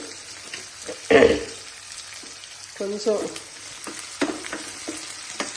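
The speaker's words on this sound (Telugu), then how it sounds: "ఇట్లా తాలింపు వేసుకొని ఇంకా బాగా వేగనివ్వాలండి" Onion tempering frying in a pan, a close sizzle broken by loud stirring scrapes and clatters, with a brief spoken word partway through.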